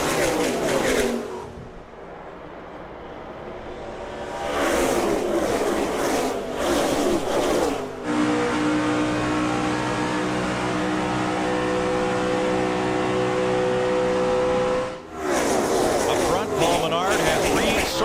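NASCAR race cars at the start of the 2009 Budweiser Shootout: a loud, steady engine roar from the pack builds and holds, with a broadcaster talking over it.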